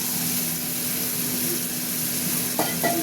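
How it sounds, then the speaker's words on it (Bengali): Shrimp frying in a pan with spices just added, a steady sizzle and hiss close by with a low hum underneath and a couple of brief scraping stirs near the end; no one speaks. "চিংড়িগুলো ভাজা ভাজা হয়ে গেছে, মশলা দিয়ে দিলাম।"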